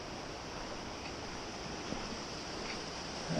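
Pipe Creek running through a canyon along the Bright Angel Trail in the Grand Canyon, a steady broadband wash of flowing water with no voices, even and continuous throughout.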